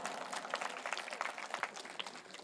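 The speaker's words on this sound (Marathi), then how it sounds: "आमचे परम आदरणीय परमपूज्य अमृताश्रम स्वामी महाराज यांच्यासाठी एकदा जोरात टाळ्या वाजवा." Audience applause for Amritashram Swami Maharaj at a kirtan gathering: dense, sustained clapping from a sizeable crowd throughout, steady and fairly distant, with no voices over it.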